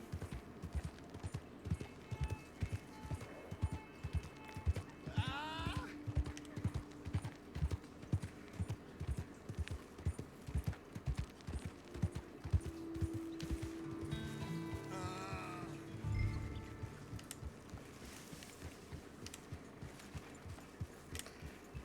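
Hooves clip-clop in a steady, rhythmic trot throughout, with a horse whinnying briefly, game sound effects in the background, in Red Dead Redemption 2.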